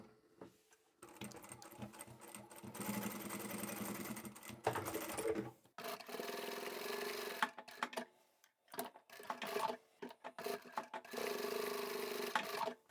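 A domestic sewing machine stitches a fabric seam for a storage box, running in several bursts of rapid whirring with short pauses between and a reverse pass for back stitching, close and fairly quiet.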